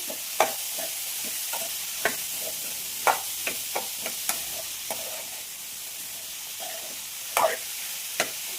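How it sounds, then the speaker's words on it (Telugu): Beetroot frying in a pan with a soft continuous sizzle, punctuated by irregular scrapes and taps of a spatula stirring the pieces, close and moderately quiet with no talking. "సో బీట్రూట్ వేసాం కదా, దీనికి సరిపడా ఉప్పు వేసేసి, సో సరిపడా ఉప్పు అయితే వేసేసుకోండి."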